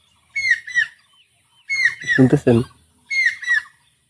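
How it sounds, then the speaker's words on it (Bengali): Birds calling outdoors at Paharpur, the Buddhist monastery site in Naogaon, Bangladesh: three bursts of high chirping, the middle one overlapping a voice speaking close by. "তারপরে পাখির ডাক শোনায়"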